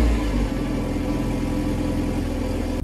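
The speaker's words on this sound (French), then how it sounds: "il est temps maintenant qu'on se fasse le dernier cold start de la voiture avec son stock exhaust" A Renault Clio RS with its stock exhaust on a cold start, the engine catching and settling into a loud, steady high idle with a constant droning rumble, close by and with no talk.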